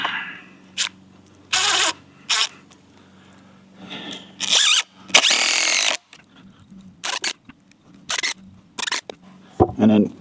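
Drill driving 2.5 inch exterior wood screws into wood while building a deer feeder, heard as several short loud bursts of whirring separated by pauses, with a voice speaking between them.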